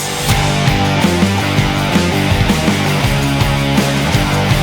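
Aggressive Greek-Egyptian style heavy metal instrumental from the Hades video game soundtrack, chugging distorted guitars over punchy, syncopated drums with time signature changes, loud and relentless throughout.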